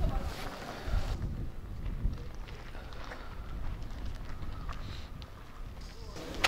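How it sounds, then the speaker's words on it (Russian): Wind blows steadily through an unfinished building in the Chernobyl exclusion zone, a hollow, draughty rush, a continuous low roar with occasional gusts and faint creaks. "Тут довольно холодно и ветер, сильный сквозняк."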